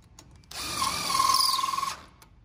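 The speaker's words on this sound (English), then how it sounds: "I'll grab my impact and I can drive them down through." Impact driver sinking a stainless Phillips screw through a pontoon corner cap, a close, steady whir of about a second and a half with a rising squeal and rapid hammering pulses near the end, alone.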